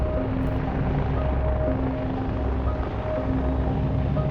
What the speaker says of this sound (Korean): 그렇게 헬기는 한참 동안 바다 위를 비행했고